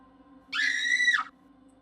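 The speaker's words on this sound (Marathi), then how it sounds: "आणि हे बघून तपस्या खूप जोरात किंचाळली" A woman's loud, high, sustained scream serves as a dramatic sound effect in a narrated story, lasting under a second and standing alone over a faint low hum.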